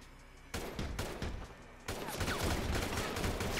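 Gunfire in Grand Theft Auto Online: a quiet start, then a loud burst of rapid shots that breaks off and returns as a second, sustained volley.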